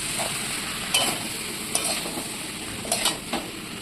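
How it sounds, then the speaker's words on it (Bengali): Fried jackfruit and potato pieces are stirred and sautéed in a hot pan, a steady close sizzle broken by several sharp scrapes and clinks of a spatula against the metal, with no talking. "এইভাবে ভালো করে কষিয়ে নেব"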